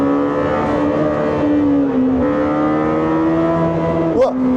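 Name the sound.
Lamborghini Temerario V8 engine revving at high rpm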